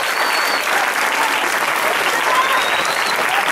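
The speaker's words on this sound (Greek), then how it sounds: "Θέλω να τη χειροκροτήσουμε" A crowd applauds at a village festival for the feast of Saint John in Stanos, Chalkidiki, a loud, dense, unbroken clapping that holds steady from start to finish.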